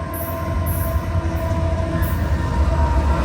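A CSX freight train with a slug locomotive rolls past close by, a steady heavy rumble of wheels and cars with thin high metallic squeals riding above.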